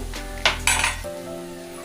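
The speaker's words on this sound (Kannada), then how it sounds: "ಚೆನ್ನಾಗಿ ಕುದ್ದಿದ ತಕ್ಷಣ ಸರಿಯಾಗಿ ಒಂದು 2-3 ಸತಿ ಹೀಗೆ ತಿರುಗಿಸ್ರಿ" A spoon scrapes and clinks against a metal pot as milk curry is stirred a couple of times, two sharp close clanks followed by a quieter settling hum.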